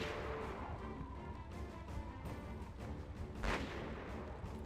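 Gunfire and heavy booming blasts from a street battle in the video game Conflict: Desert Storm 2, a dense rumbling barrage with one sharper crack standing out, no talk over it.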